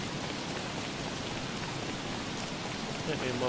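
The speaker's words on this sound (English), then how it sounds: "It's because it's raining and you haven't got a hat." Rain falls steadily in the video game Don't Starve Together, a constant soft hiss of drops that stays even throughout, heard alone without talk.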